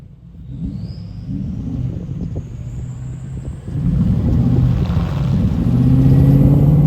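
Truck driving on a dirt road and turning around, a steady low engine rumble with tire and gravel noise that grows louder and heavier as it accelerates out of the turn.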